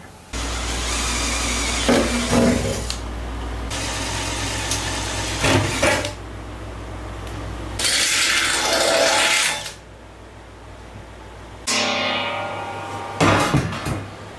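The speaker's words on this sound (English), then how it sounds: "drill some pilot holes, and then put some actual holes in this" A drill bores pilot holes into a part for a Shovelhead chopper motorcycle in a workshop, several loud whirring bursts of a few seconds each with short pauses between, over a steady low shop hum.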